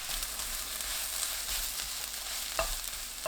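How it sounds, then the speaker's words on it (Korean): Dried eggplant and minced garlic stir-fry in oil in a hot pan over medium heat, giving a steady close sizzle with soft stirring scrapes and one brief clack near the end. "가지 넣고 2분 30초 볶아주세요"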